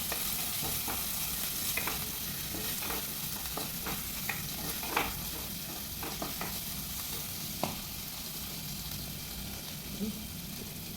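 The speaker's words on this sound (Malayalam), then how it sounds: "വെളിച്ചെണ്ണ ചൂടായി വരുമ്പോൾ നമുക്കതിലേക്ക് ഇഞ്ചിയും വെളുത്തുള്ളിയും ഇട്ട് കൊടുക്കാം" Steady frying sizzle of ginger and garlic in hot coconut oil fills the clip, with a utensil clicking and scraping at irregular intervals as they are stirred.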